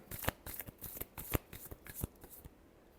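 Tarot cards are shuffled by hand in a quick series of crisp riffling snaps and soft slaps, close and fairly quiet, with no speech.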